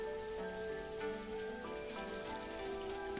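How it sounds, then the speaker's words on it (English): Rain falling in the farming video game Dinkum, a steady soft patter that swells in the second half, layered over sustained tonal game music. "it's already watering because it's raining today"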